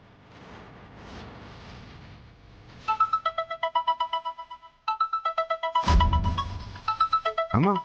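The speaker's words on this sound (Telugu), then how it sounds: "అమ్మా, ఫోన్ లోపలే ఉన్నట్టుంది, అక్కడే రింగ్ అవుతుంది." Mobile phone ringing inside a locked house, its melodic electronic ringtone heard muffled through the door in repeated pulsing phrases after quiet ambient noise, with a thump partway through.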